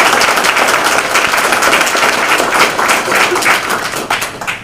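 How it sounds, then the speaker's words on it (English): Audience at a town board meeting giving a round of applause for EMS leadership award recipients, steady dense clapping throughout at close range, tapering slightly at the end. "So let's give them a nice round of applause."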